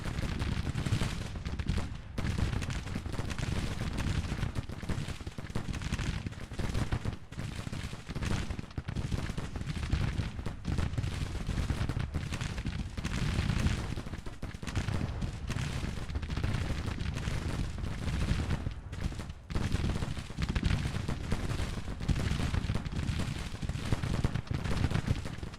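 Continuous dense barrage of artillery and gunfire in the Civil War strategy game Grand Tactician, a loud rumbling roll of overlapping booms and cracks that never lets up, with no voices.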